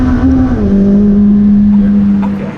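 A McLaren 600LT supercar accelerates at full throttle, a loud, sustained engine roar that holds one steady, slowly rising pitch from inside the car.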